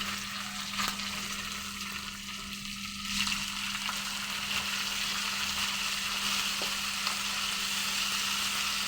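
Green chillies, ginger, carrot, coriander and curry leaves fry in hot oil with a steady, close sizzle that runs the whole time, broken by a few soft stirring scrapes, with no voices over it.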